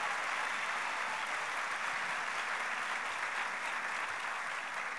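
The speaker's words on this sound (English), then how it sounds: "Give her a round of applause," An audience at a political conference applauds for Karen Pence. The clapping is dense and sustained and stays loud and even, with no voices over it.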